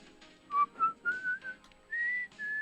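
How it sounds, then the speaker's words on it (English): Someone in a video game whistles a short, wavering tune of several notes, fairly close and clear against a quiet background. "You just have to listen for the whistling too"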